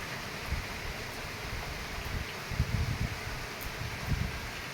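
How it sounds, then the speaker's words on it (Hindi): Heavy rain falls outdoors in a sudden downpour, a steady, even wash of hiss with occasional soft low thumps, continuous and unbroken with no talking. "अचानक ही अभी तेज़ बारिश शुरू हो गई है"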